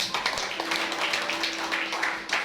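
Congregation clapping during a Sunday church service sermon, a brief scattered round of hands in a hall, moderately loud with a faint hum beneath.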